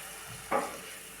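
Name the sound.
puris deep frying and puffing in oil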